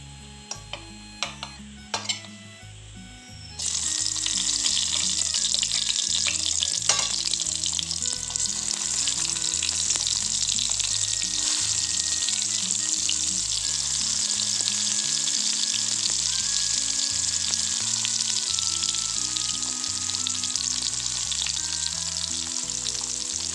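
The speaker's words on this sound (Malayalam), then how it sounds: "ചീനിച്ചട്ടി വെച്ച് എണ്ണ ചൂടായിട്ട് നമുക്കതിന് ഓരോന്നായിട്ട് ഇട്ട് വറുത്തെടുക്കാം." Brinjal slices fry in hot oil in a cheenachatti wok. After a few sharp clinks, a loud, dense sizzle erupts and holds steady, crackling and bubbling on its own for the rest of the stretch.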